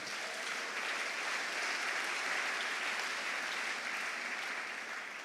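A church congregation applauds during a Sunday service, producing a steady, even wash of clapping at a moderate distance that holds for several seconds.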